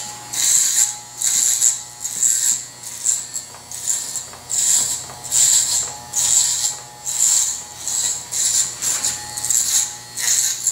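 Hair clippers fitted with a 3/8 blade cut the sides of a flattop, giving a rhythmic run of short buzzing, crunching strokes that rise and fall about once a second, close and steady without talk.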